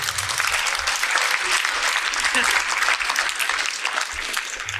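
An audience in a hall applauds steadily, a dense wash of many hands clapping at a constant loud level for several seconds without letting up.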